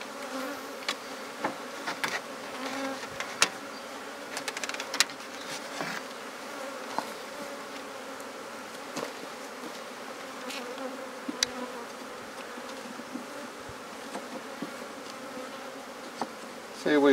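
Honeybees humming steadily around an open top-bar hive being converted into a Langstroth nucleus, a dense continuous buzz close by with occasional louder passes of individual bees and no talking.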